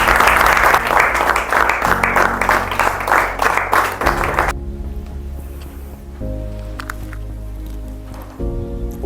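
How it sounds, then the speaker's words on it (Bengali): Loud, dense applause from a crowd at an academy result or felicitation event, a steady roar of clapping that thins and weakens partway through, with a low hum running underneath. "জোরদার হাততালি"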